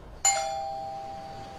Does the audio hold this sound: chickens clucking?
no